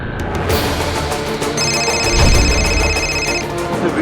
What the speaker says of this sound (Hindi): वीरू फोन क्यों नहीं उठा रहा है ये?